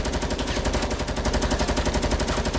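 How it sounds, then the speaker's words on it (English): Rapid automatic gunfire in a video game rattles in a dense, continuous burst, loud and close, with no talk over it. "Bro, I'm getting shot on top."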